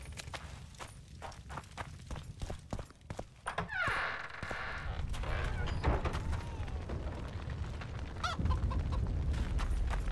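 Chickens in The Witcher 2 cluck in scattered bursts over a busy game soundscape, with footsteps and hoof-like clopping around them and no talking.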